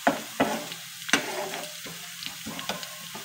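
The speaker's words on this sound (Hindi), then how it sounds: "और सब्ज़ मिर्च भी इसमें साथ ही फ्राई हो जाएगी।" Garlic and green chillies frying together in oil for masoor dal, a continuous nearby sizzle broken by several sharp stirring knocks against the pan.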